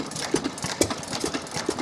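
A vintage 5 horsepower Buzzacott petrol-kerosene engine, throttle governed and run on petrol, chugs at an engine rally with a regular, fairly quick beat under outdoor background noise.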